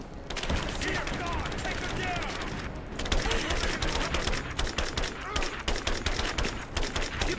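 Sustained gunfire in the video game Rise of the Tomb Raider, a loud, dense burst of rapid shots and automatic fire lasting throughout, with game voices mixed in.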